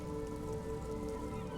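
Steady rain pattering in Disco Elysium, a soft even wash of drops with a faint low hum beneath, continuous and without talk.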